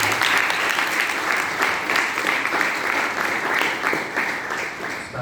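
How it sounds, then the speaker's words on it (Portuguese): A congregation gives a round of applause for God, a steady wash of many hands clapping together, even and moderately loud for several seconds. "Uma salva de palmas para Deus."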